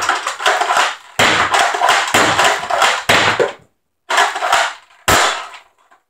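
A modified Nerf Longshot blaster fires foam darts in a run of five or so loud, sharp pops with mechanical clatter between them, close up and without speech.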